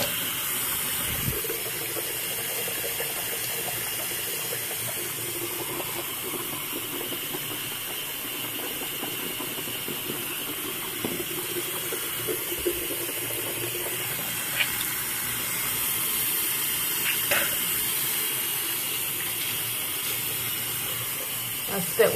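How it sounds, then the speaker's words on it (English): Tap water runs steadily into a bathroom sink with a continuous hissing flow, joined by a few faint clinks and small handling sounds. "Alright, so I'm going to wash it out of the sink."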